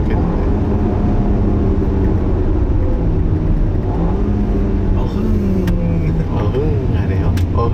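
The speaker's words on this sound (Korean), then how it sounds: "아주 엔진이 기분 좋게 가속되는 느낌이 있네요." A 2017 Audi A4 45 TFSI gasoline engine pulls smoothly, its low steady drone rising in pitch as the car gains speed, heard loud and close from inside the cabin with no voices over it.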